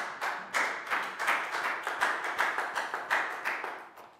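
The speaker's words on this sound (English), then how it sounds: "High five and a big round of applause for Preo." A classroom of Year 4 students gives a round of applause, a steady run of close, sharp claps with rhythmic bursts and no voices.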